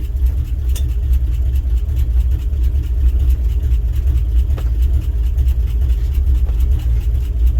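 A revived 1967 International 1200 truck engine idles steadily and close by, a low continuous rumble with faint clicks and knocks on top, no talking.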